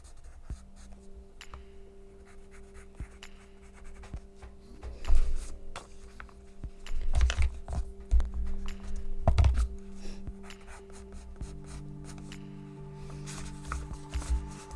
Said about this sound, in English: This pencil is a bad choice for, you know, your sketching